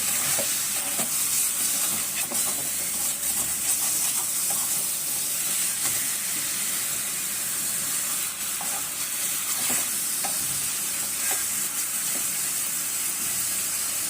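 Chicken with ginger paste fries in hot oil in a pan, a steady close sizzle and hiss broken by occasional stirring scrapes, with no talking.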